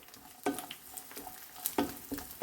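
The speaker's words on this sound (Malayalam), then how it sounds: "ക്യാഷ്നട്ട് ഒന്ന് റോസ്റ്റായി വരുമ്പോൾ കിസ്മിസ് ചേർത്ത് കൊടുത്ത് റോസ്റ്റ് ചെയ്യാം" Cashews and raisins roast in ghee with a light sizzle, broken by several sharp stirring scrapes and clinks of a spoon against the pan, close and fairly quiet, with no talking.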